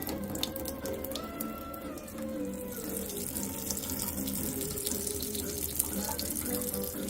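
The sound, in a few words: water running from reverse osmosis filter faucet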